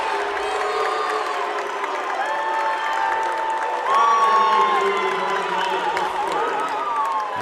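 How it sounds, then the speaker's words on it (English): A crowd in a high school basketball gymnasium at a Spring Hill Broncos vs. Paola Panthers game boos after an offensive foul, with sustained, wavering voices that swell midway, mixed with shouts. "you can hear the majority of boos raining down in this gymnasium"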